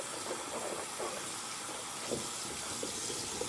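Tap water runs steadily into a sink while a GP-5 gas mask is rinsed, a continuous close hiss with small splashy bursts as the mask is moved under the stream.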